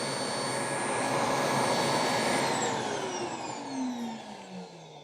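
A Eureka E20 Plus robot vacuum empties itself into its bagless dock with a loud, steady whooshing roar that winds down near the end, a falling whine trailing off as the suction fades.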